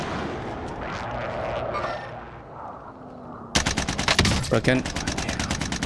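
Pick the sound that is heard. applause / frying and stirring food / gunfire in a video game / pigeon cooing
gunfire in a video game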